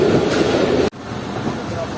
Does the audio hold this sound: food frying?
no